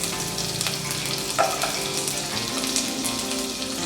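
Finely chopped garlic frying in a hot pan for a palak mutter dish, a close, continuous sizzle with a brief stirring clatter partway through and no talking.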